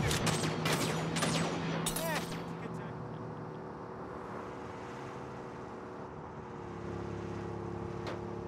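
Gunfire in the Saints Row reboot on PS4: a quick volley of sharp shots in the first two seconds, then a sustained engine-like hum and low rumble, with a voice shouting in the mix.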